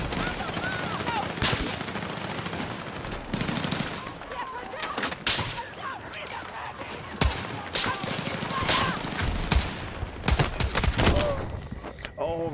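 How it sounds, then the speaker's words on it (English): Gunfire in a video game comes in bursts of rapid shots and single sharp cracks, loud and near, scattered through the whole stretch, with a voice talking in between. "I'm getting shot from another side as well."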